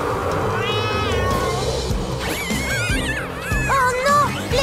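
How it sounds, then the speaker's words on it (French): Kittens in an animated children's cartoon bath-time scene meow repeatedly in high, wavering cries that overlap and grow louder toward the end, over a busy music and effects bed. "Oh non! Les chatons!"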